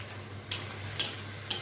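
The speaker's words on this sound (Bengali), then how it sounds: "তো আর একটু ভাজা ভাজি করি" Steady frying of onions in a pan for biryani, with a low hum underneath, broken by three evenly spaced scraping stirs.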